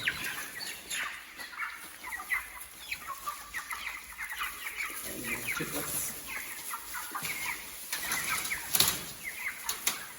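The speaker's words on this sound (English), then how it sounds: "We're moving the Roscob chicks from their current accommodation" Young Roscob chicks cheeping and flapping as they are moved to larger housing on a smallholding, busy high chirps with bursts of wing flutter and rustling, fairly close.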